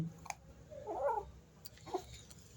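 A cat gives a drawn-out, plaintive meow, followed by a shorter second call, in a quiet room with faint clicks.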